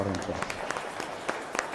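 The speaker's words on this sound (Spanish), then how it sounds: "Fuerte aplauso para el Señor." A congregation claps at the close of an Epiphany Mass in church, with scattered, uneven claps standing out over a murmur of voices, sparse rather than a full ovation.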